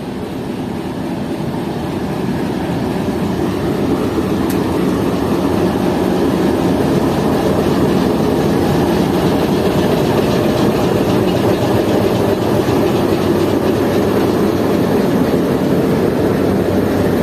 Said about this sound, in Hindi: PHA 28318 का छगिंग साउंड भी सुनाता हूँ